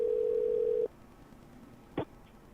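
A steady telephone dial tone sounds for under a second while calling a number back, then cuts off, followed by a brief click and quiet line hiss.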